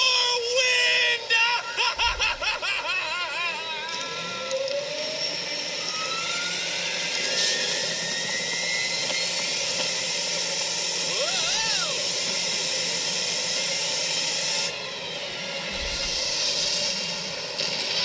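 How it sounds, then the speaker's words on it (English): Roaring tornado wind tears through a barnyard in an animated film, a loud, continuous hiss with rising whooshes and gusts, and brief vocal sounds cut through it. "Cue the storm."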